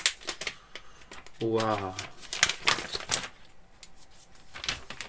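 Tearing and scraping as the box of a Xiaomi Pad 5 tablet is opened close by, interrupted by a short excited exclamation and a faint whistle-like tone.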